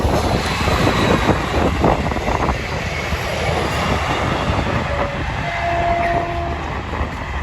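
A train passes near a fast-flowing winter river, a loud, steady rolling rumble and rattle of wagons filling the whole stretch, with a faint horn-like tone toward the end.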